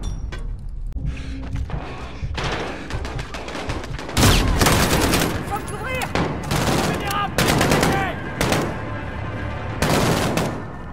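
Heavy gunfire in Call of Duty: Modern Warfare, loud rapid bursts of shots and booming impacts crowding together in a close, chaotic exchange, with faint game sounds between volleys.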